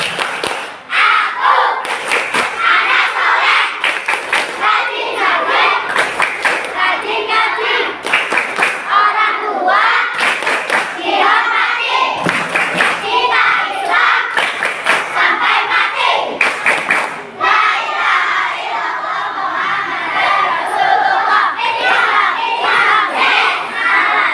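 A crowd of schoolchildren at an Islamic gathering in a primary school claps the Tepuk Anak Soleh chant, loud and continuous, with rhythmic clapping bursts and shouted chanting voices filling the space throughout.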